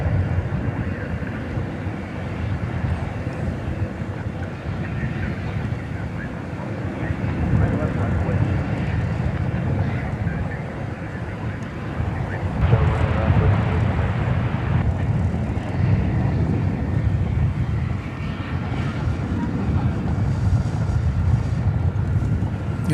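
A Qantas Boeing 787-9 Dreamliner airliner takes off at night from DFW Airport, bound for Sydney, giving a steady, rising jet roar that swells slightly mid-way, with wind buffeting the microphone and a voice talking over it.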